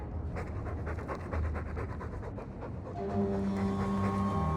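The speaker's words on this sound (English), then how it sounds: "All that noisy dog breath, day in, day out." Dog panting in the fantasy role-playing game Dragon Age 2, rapid rhythmic close breaths for about three seconds, then fading as a low droning tone takes over.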